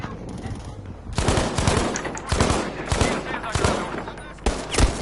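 Gunfire in the video game Battlefield V: loud, close bursts of rifle and machine-gun shots crack out in several rapid volleys over a steady battle din, with short pauses between them.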